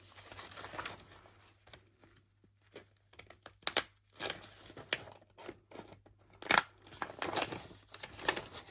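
Paper is cut with scissors in a series of close, irregular snips and crisp slices, with soft crinkling and rubbing between cuts and a low steady hum underneath.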